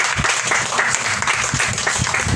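Close, loud applause from a church congregation during a Spanish-language service, a thick burst of many clapping hands with a few sharper individual claps standing out.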